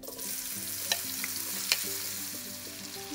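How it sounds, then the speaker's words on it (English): Chopped onions sizzling in a pan after stone flower spice, for tomato rice, with a soft continuous fry and a couple of sharp scraping stirs, close and fairly quiet, no voices. "Stir it well, and we are going to add chopped onions to this"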